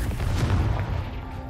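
A Confringo spell blast in Hogwarts Legacy lands as a loud, deep boom that rolls into a heavy rumble and fades slightly without dying away.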